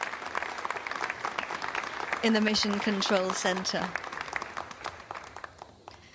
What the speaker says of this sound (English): Now we have some applause there